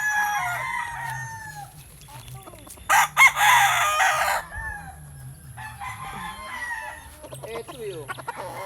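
Roosters on a gamefowl farm crow and cluck, with one loud close crow bursting out mid-way and other crows and clucks scattered around it at varying distances, over a low hum.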